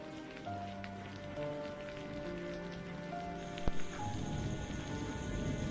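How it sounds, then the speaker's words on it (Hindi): Heavy midnight rain in a village, a soft continuous patter beneath background music tones, with one brief sharp knock partway through. "बाहर मूसलाधार बारिश हो रही थी।"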